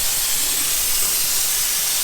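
Spray gun laying Raptor bedliner coating onto the underside of a classic car, a continuous close airy hiss with no break over two seconds.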